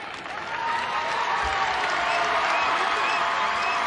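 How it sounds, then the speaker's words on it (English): A basketball arena crowd at a Florida versus Florida State game applauds a player rising from the floor after an injury. The clapping swells and holds steady, dense and broad, with some crowd noise mixed in. "And the applause for Faith Duke as she rises to walk"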